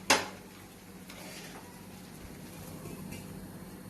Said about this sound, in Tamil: இதை வந்து நம்ம மூடி போட்டுக்கலாம்.